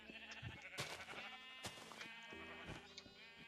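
Repeated sheep bleats from the blocky game Minecraft, several quavering calls over about three seconds against a steady harmonic game music bed, fairly quiet overall.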